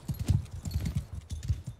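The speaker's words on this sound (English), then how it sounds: "Oh, these guys all have horses." Horses galloping across the battlefield in the video game Mount and Blade II: Bannerlord, a steady run of rhythmic hoof clip-clops at close range, uneven and overlapping as several mounts charge together.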